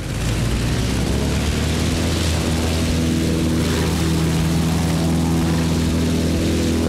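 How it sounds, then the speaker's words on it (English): A propeller airplane engine in the Battlefield 1943 video game drones loudly and steadily, a continuous close buzzing hum with a low throb that holds throughout, without speech. "Okay, let's take the plane."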